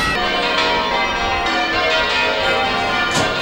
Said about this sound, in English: they'll be ringing their bells in towers just like this one in over 20 churches across East London